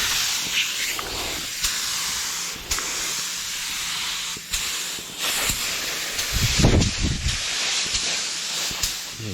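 A spray gun lays candy paint onto Harley Davidson tins, a close continuous hiss of spraying with short pauses between passes and some clunks of handling near the end.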